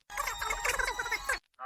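A red telephone rings loudly and close with a rapid, continuous electronic trill lasting over a second, then a short second burst begins after a brief gap.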